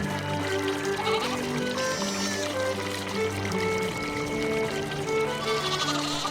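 Lambs bleat repeatedly in the Farming Simulator 22 video game, wavering cries layered over steady background noise and a trickling water sound.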